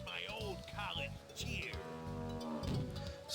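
Cows moo repeatedly in the retro point-and-click video game The Legend of Kyrandia: Malcolm's Revenge, several drawn-out low lowing calls in sequence with game sound around them.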